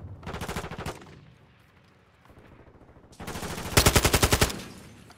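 AK rifle fire in Call of Duty: Modern Warfare II, a short rapid burst followed by a quieter lull, then a second longer and louder automatic burst with evenly spaced shots.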